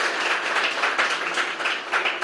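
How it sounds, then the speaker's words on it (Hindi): A classroom audience claps together in a steady, dense patter of many hands, fairly loud and sustained for a couple of seconds without talk. "एक बार ताली बजा"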